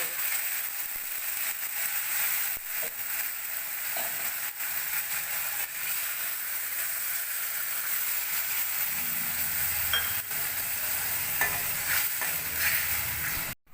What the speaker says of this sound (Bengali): এবার মশলাটা ভেজে নেব।